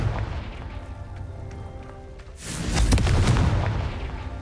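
Confringo fire spell explosion in Hogwarts Legacy: quiet background ambience suddenly broken by a loud burst, a booming, crackling blast that swells and rumbles before fading.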